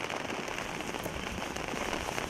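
Steady rain falls on a gloomy day at an outdoor farewell ceremony for a fallen Ukrainian soldier, a dense, even patter close by with no voices.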